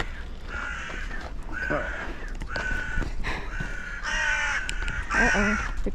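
Several crows give harsh alarm caws near the Pyramid of Khentkawes in Giza, a run of repeated calls that grows louder and more insistent toward the end over faint outdoor background.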